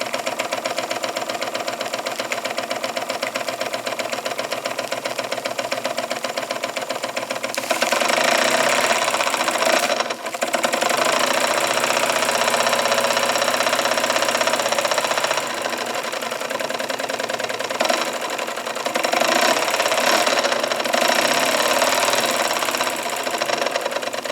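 A Jensen Model 75 model steam engine runs steadily with a rapid, even chugging beat, holding a constant rhythm and briefly rising in pace partway through.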